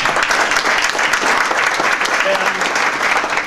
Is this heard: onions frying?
no